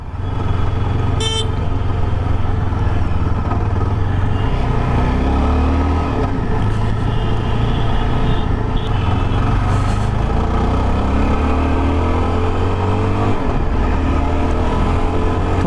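A Yezdi Adventure motorcycle accelerates in first gear along a road, its engine note rising and falling close by while traffic horns honk now and then in the background.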